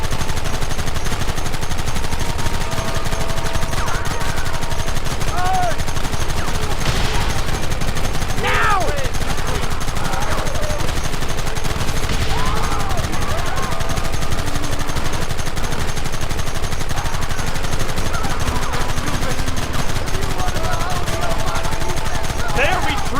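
Sustained gunfire in the video game Red Dead Redemption, a dense continuous barrage of shots with shouting voices and battle noise layered throughout.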